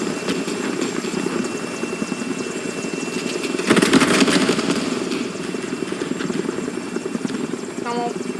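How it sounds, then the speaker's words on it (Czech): Helicopter in the video game MTC4, a steady rotor and engine drone that swells louder midway as it passes closer, heard under game noise. "Kamo, helikoptéra."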